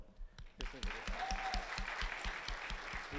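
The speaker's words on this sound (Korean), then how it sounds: "감사의 박수를 한번" A church youth group audience claps steadily in a dense burst of applause that starts quickly and holds at an even level.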